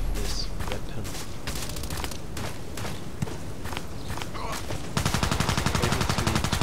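An SR3M compact assault rifle fires in the online shooter Contract Wars: loud, rapid bursts of automatic gunfire with irregular gaps, ending in a sustained, dense stream of shots, alongside footsteps and game noise.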